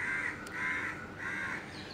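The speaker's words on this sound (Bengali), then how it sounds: "আর পাখিও ডাকছে কুচুর কুচুর করে" A crow caws at dawn outdoors, three drawn-out harsh calls repeating evenly at a moderate distance, fairly faint against a quiet morning background with a brief click between the first two.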